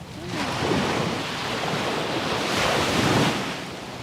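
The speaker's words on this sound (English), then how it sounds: "There's a lot of splashing today." Ocean waves splash and surge on a Thailand beach, a continuous loud wash of surf swelling and receding twice, with wind buffeting the microphone and no talk.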